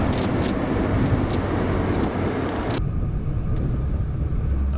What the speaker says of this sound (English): this is the full throttle run here